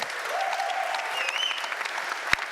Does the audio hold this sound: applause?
yes